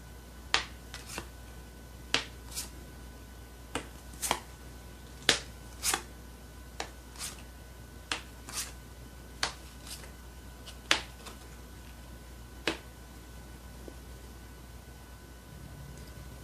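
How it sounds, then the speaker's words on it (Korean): Tarot cards are set down one by one on a table, giving a close series of crisp, papery slaps at an uneven pace over a quiet room tone, with no talking. "3번 여러분들 카드 놓겠습니다."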